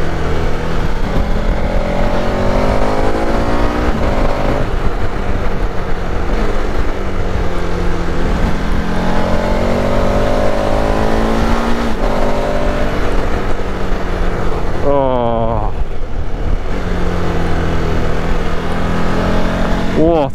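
A 2021 KTM 1290 Super Adventure motorcycle riding a Welsh road, engine droning loud and close with rising and falling revs through gear changes, wind roar throughout, and a brief sharp engine note near the end.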